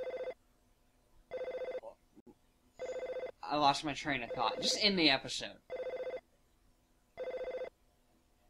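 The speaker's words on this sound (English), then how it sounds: "Are you gonna answer the phone?" An old-style telephone bell rings in regular, evenly spaced bursts, five rings with pauses between, while a person talks over the gap between the third and fourth rings.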